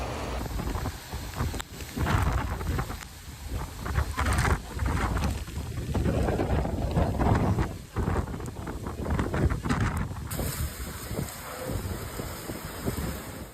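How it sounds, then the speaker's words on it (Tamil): Heavy rain and gusting wind sweep over flooded streets in Murcia, a dense, continuous roar of rushing noise that swells and dips slightly with the gusts but never lets up. "முர்சியாவில் வெள்ளம் சூழ்ந்த தெருக்களில் பலத்த மழை மற்றும் காற்றின் வேகத்தில்"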